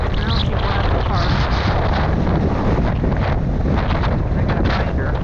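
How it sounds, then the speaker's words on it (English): Heavy wind roars into the microphone during a bike ride at St. Joseph Peninsula State Park, a loud, constant buffeting that masks nearly everything else. "This wind."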